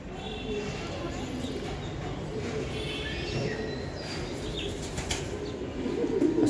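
High-flying Giribaj racing pigeons flutter and shuffle nearby, with a steady rustle of flapping wings and light scratching that grows slightly louder toward the end.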